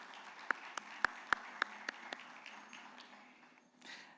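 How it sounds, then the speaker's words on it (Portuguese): An audience at a livestock investment panel gives a faint, sparse round of applause, a handful of sharp individual claps standing out over a soft room murmur before fading away. "uma calorosa salva de palmas ao especialista em boi gordo da Terra Investimentos"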